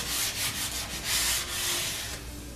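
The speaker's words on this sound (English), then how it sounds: "sometimes you just gotta do a little hand sanding like this." Hand sanding of wood during work on a table build, with quick rasping back-and-forth strokes in an uneven rhythm, close and fairly loud, with no talking.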